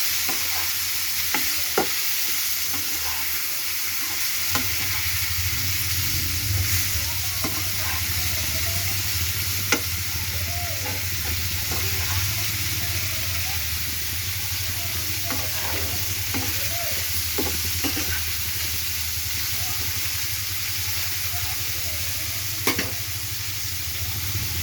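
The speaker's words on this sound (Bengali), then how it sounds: "তেলের উপরে একটু নাড়াচাড়া করে নেব।" Paneer pieces being gently tossed and roasted in a little oil in a pan, a continuous close sizzle and hiss with frequent spatula scrapes and taps against the pan throughout, no talking.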